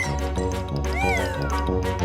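A cat meows once with a rising and falling cry, heard clearly over a bright, bouncy children's music bed with voices faintly present.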